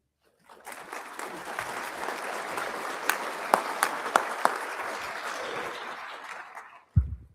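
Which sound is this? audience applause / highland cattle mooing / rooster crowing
audience applause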